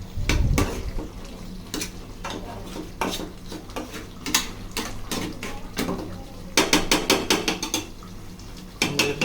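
Boiled chicken for biryani is lifted out of a cooking pot, with sharp metallic clinks and scrapes of a spoon against the pot, irregular at first, then quick clustered knocks near the end.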